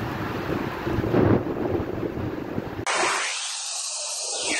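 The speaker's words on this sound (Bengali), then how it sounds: "কি মুষলধারে বৃষ্টি হচ্ছে রাজবাড়িতে" Torrential rain at a palace compound pours as a dense, steady roar, loud and close, with a low rumble in the first seconds and a muffled, whooshing wind-like wash toward the end.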